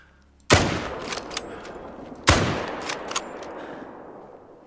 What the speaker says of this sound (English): No, let's shoot a piggy.